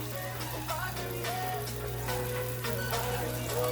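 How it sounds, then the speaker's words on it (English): Tomato paste sizzles and crackles steadily in a pan during fish sauce cooking, a close, continuous frying hiss with small pops and a low hum beneath, no talking. "You cook your tomato paste for at least like 2 to 3 minutes."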